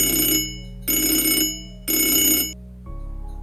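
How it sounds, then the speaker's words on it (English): A bell-type telephone rings three times in even bursts, loud and close, with a low hum continuing underneath and no voices. "I get a phone call from my husband."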